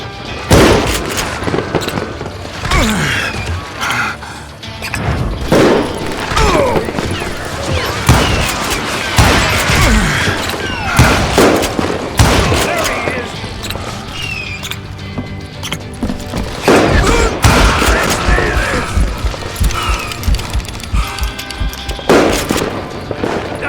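Rapid gunfire from revolvers and rifles in the Western shooter Call of Juarez Gunslinger, loud, dense volleys and booming shots crackling almost continuously, with hoofbeats and brief shouts mixed in.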